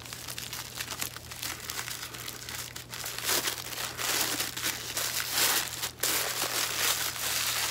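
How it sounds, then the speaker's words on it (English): Wrapping paper crinkles and tears as a gift is unwrapped, a continuous close rustle that grows louder and denser partway through, over a low steady hum. "Being bad at unwrapping."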